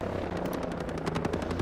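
An enemy helicopter in the video game Ghost Recon Breakpoint approaches with loud, rapid rotor chopping and a low engine drone, close and steady throughout.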